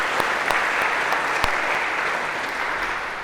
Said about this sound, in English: maybe a round of applause to break the ice for these 2.